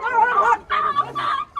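Dogs at a shelter in Kurdistan housing over 550 dogs give three short, fairly close barks or yips in quick succession.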